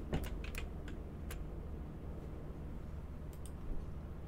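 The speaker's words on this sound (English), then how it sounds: "It does sound like you're pounding on your keyboard." Fast, uneven typing on a computer keyboard, a run of sharp clicks bunched at the start and a few more near the end, close and moderately loud with a low steady background hum and no talk.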